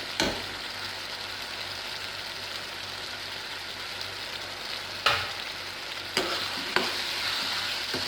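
Tomato masala with green chillies and lemon juice sizzles softly in a pan, a continuous low hiss broken by a few sharp taps of a spoon against the metal.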